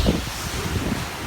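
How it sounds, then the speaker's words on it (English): Strong gusts from Hurricane Ian roar and buffet against the microphone, a loud rumbling wind with rustling surges and no one talking. "We've had a recent wind gust of 56,"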